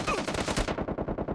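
Rapid automatic gunfire in the mobile battle royale game PUBG Mobile Lite, a dense burst of loud close shots that fades into a quieter rhythmic rattle.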